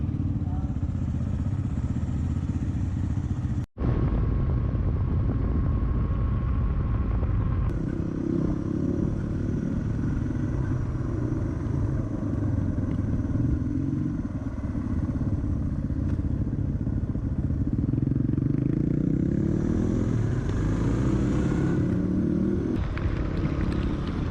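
A motorcycle cruising on a long motocamping road trip: a steady engine drone with heavy wind rush and road rumble, one brief dropout, then the ride continues at an even pace.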